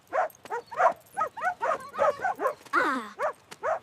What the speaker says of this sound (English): Woof! Woof!